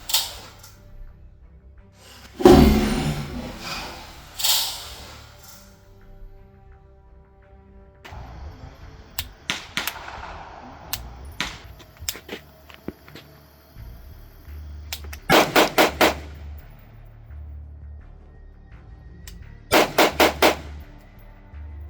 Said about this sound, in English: the safety is already clicked off by the time that I have my rifle raised.